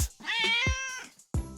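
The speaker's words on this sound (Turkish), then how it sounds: "Cat." A domestic cat gives a clear, drawn-out meow that rises and falls, then a second meow begins at the end, close and loud with no talking.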